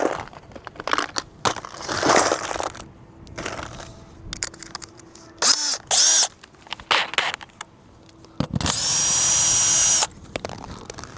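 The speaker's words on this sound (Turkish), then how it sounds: "Şimdi trapez vidaları sökeceğiz." A power drill backs trapezoid screws out of a satellite dish mount, short whirring bursts between clicks and handling clatter, ending with a longer high-pitched sustained drilling run near the close.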